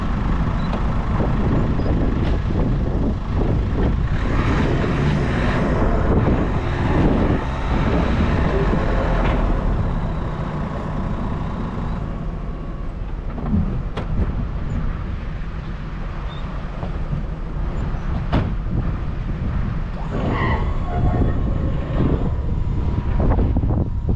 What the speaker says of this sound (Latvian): vējš pūš